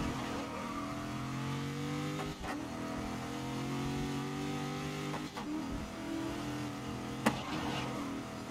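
Race car engine bouncing off the rev limiter in the racing game GRID during a night cup event, a loud sustained buzzing drone with steady harmonics and brief dips at gear or throttle changes, alone without talk.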